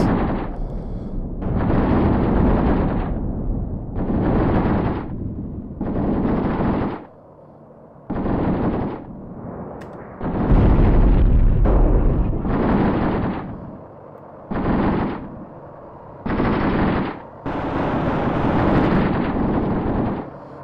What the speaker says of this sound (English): My tanks are firing at them.